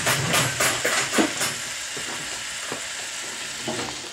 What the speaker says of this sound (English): Listen to that beautiful sizzle.